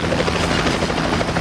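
Helicopter in an action film: a loud, close, continuous rotor chop with rapid pulsing thuds and engine whine throughout a brief burst.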